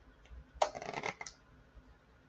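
Tarot cards are shuffled by hand in one quick riffling burst of papery flutter lasting about half a second, close and distinct against quiet room tone.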